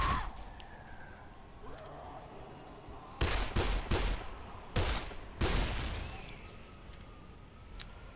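Gunfire in Dead Island: three or four sharp, loud shots spaced about a second apart cut through a quiet game ambience, followed by a faint click.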